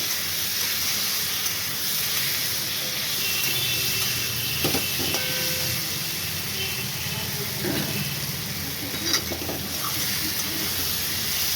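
Half a tomato goes into a frying pan of prawn curry, with a steady low sizzle and hiss and a few faint clinks of stirring.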